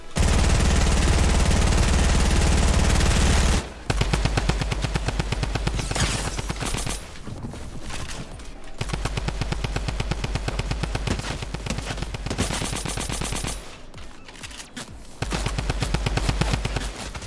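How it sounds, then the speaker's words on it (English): Rapid automatic fire from a drum gun and a P90 in Fortnite comes in long continuous bursts of loud, dense shots, with brief gaps between volleys. "The drum gun and the P90."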